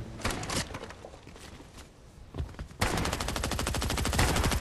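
Bursts of video game gunfire in a first-person shooter with ziplines and pickaxes: scattered single shots, then a dense, loud, sustained rapid-fire volley toward the end, with no talk.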